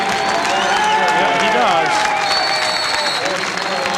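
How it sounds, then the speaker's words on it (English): A crowd at a 1993 Syracuse versus Hofstra lacrosse quarterfinal claps and cheers loudly throughout, with commentators talking over the applause. "now he's running off and should get a big round of applause"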